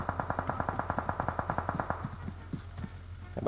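Rapid automatic gunfire in the mobile battle-royale game PUBG Mobile, a steady burst of about twenty evenly spaced shots over two seconds, then fading into scattered quieter bangs and a low background hum.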